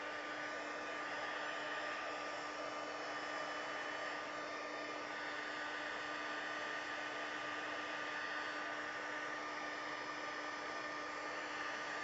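Hair dryer blowing steadily at close range for the whole stretch, drying wet paper on a butterfly bouquet craft project, a constant even whoosh with no talking over it.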